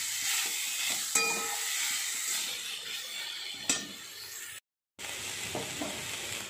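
Small fish with bitter gourd, eggplant, salt and turmeric is stirred in a frying pan. A steady sizzle and hiss runs throughout, broken by a few spoon scrapes and a brief gap of silence.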